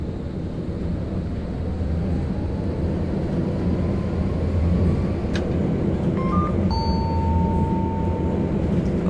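A stop-request chime sounds inside a tram in the TramSim video game, a few short clear tones late on, over a steady low hum of the moving tram.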